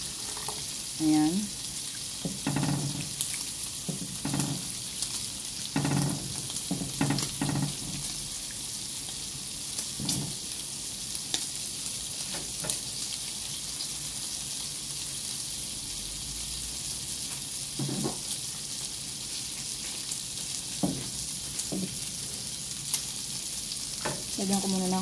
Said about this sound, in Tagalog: haluan ko na siya ng tubig. Kasi sobrang lapot.